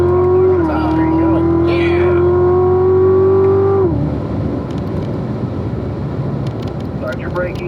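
Car on a racetrack accelerating out of a corner, its engine note rising steadily and loud for several seconds before dropping away into rougher road and wind noise, with a voice talking over it.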